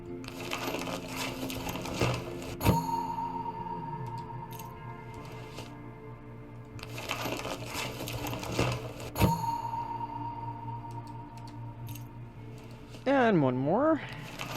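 Crafting bolts in the video game Among Trees, with bright chiming clicks and a rising synthetic tone as each item is made, two bursts of crafting sound separated by quieter game ambience, followed by a short warbling effect.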